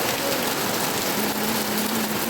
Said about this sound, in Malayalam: പിന്നെ പെട്ടെന്നൊരു മഴ അങ്ങ് പെയ്തു.